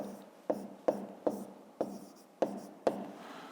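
Pen writing by hand on paper while working out a 5th-grade divisibility exercise: a steady scratchy rub broken by six sharp taps of the pen at regular intervals, close up with no talk.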